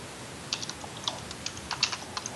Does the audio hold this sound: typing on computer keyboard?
yes